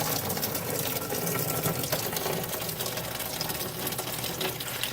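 Engine coolant draining out of a 1984 Porsche 944 NA during a coolant change makes a faint, steady hissing trickle that runs continuously without pauses, with no voices.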